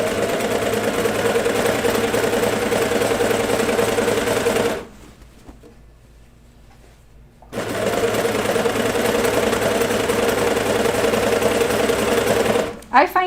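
A domestic sewing machine stitches a seam on kid's pajama bottoms, running in a steady loud whir that stops briefly for a quiet pause, then resumes.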